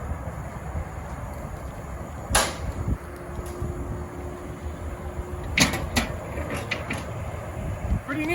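A spring-assisted WM Systems loading ramp on a Ford Transit refrigerated cargo van is worked by hand, giving a few sharp metallic clanks and clicks over a quiet background hum, with two louder knocks spaced apart.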